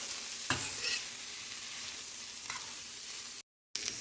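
Onion is stirred and fried in a pan. A soft, even sizzle is broken by a couple of spatula scrapes and a brief drop to silence near the end.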